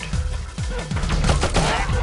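Gunfire in the video game Oddworld: Abe's Exoddus, a dense rapid burst of repeated shots running the whole moment, loud and close over a busy game background.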